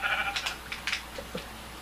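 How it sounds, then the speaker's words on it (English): Sheep in a video game bleat softly a few times, short wavering calls heard at a moderate distance over a low background hum. "Why are there sheep right here?"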